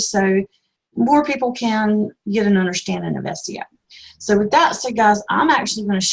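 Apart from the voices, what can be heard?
No distinct noise like a dog, phone or traffic.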